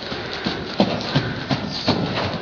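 Lame mare cantering, hooves clip-clopping in a steady three-beat rhythm of soft thuds at close range.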